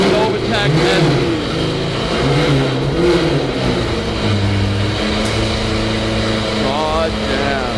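A straight-piped Lamborghini V12 fitted with a full Novitec engine setup, close and loud, with a rough idle rising into revs that climb and fall.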